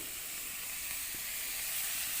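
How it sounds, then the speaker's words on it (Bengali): Sliced teasel gourd (kakrol) frying alone in a pan on a clay stove, with no potato added: a constant close hissing sizzle that stays even and slightly swells over the short stretch, with no speech. "ভাত হয়ে যাওয়ার পরে ঘাঁকড়েলটা ভাজা করছি"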